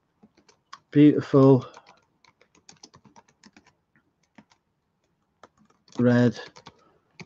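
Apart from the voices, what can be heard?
typing on a computer keyboard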